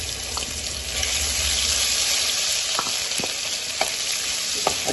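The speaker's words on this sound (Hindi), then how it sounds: "अब इसमें लहसुन अदरक 2 चम्मच डाल देते, कुटा हुआ" Crushed garlic and ginger fry in hot oil for a chicken tikka filling, a loud, continuous close-up sizzle broken by sharp scraping ticks as the mixture is stirred and turned.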